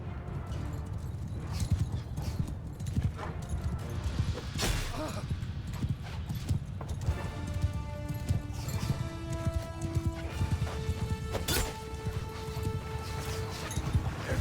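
A steady drumming of many galloping horses' hooves thunders along continuously in the video game Mount & Blade II: Bannerlord, with occasional horse whinnies and tonal chimes layered over the rumble.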